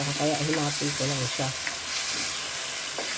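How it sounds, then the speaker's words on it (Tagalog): Marinated pork for igado sizzles steadily in a frying pan, a constant hiss under someone speaking briefly in Filipino at the start. "Hintayin lang natin siya na ma-prito."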